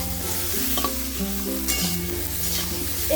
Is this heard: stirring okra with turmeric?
yes